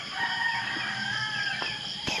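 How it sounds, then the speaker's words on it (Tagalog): Chickens and a rooster in a farmyard where chickens and pigs are kept, with the rooster crowing in a long drawn-out call over steady background clucking and bird noise. "Ayan, yung ibang mga manok namin nandito sila."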